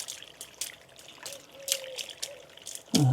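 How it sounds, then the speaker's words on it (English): Rainwater runs off a shed roof that is missing its guttering during a heavy downpour, giving a close, irregular trickling and splashing with scattered louder drops and a sharper splash at the end. "That's quite a bit of water coming off"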